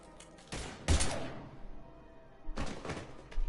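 Gunfire in the Mass Effect Legendary Edition video game, two loud bursts of shots with thuds, a short pause between them and more firing starting at the end.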